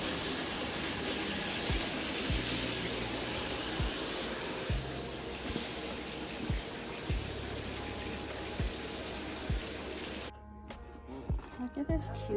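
Steady broadband rush of water running from a tap into a bath or shower, filling the whole clip and cutting off near the end, with repeated low thumps and a voice speaking over it.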